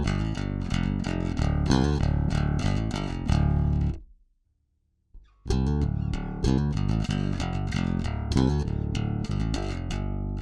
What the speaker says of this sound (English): here's the sound of my bass, completely clean with no processing on it at all